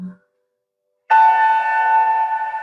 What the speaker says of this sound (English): The bell will indicate the end of our time.